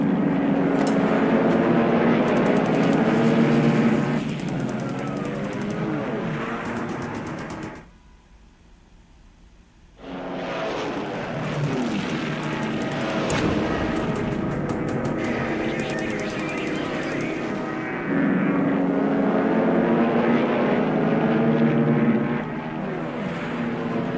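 Zero fighter planes diving on bombers in the War in the Pacific strategy game, a droning propeller aircraft roar that fills most of the stretch, cuts out for a couple of seconds, then returns at similar loudness.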